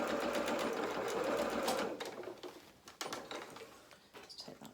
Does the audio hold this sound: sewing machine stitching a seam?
yes